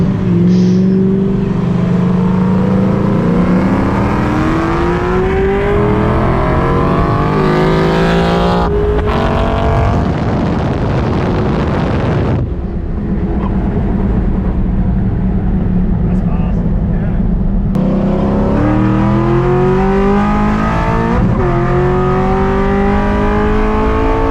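A supercharged Mustang with a Harrop 2.6 litre blower and 720 horsepower roars loudly up through the gears while racing, its rising engine note and blower whine breaking at each shift.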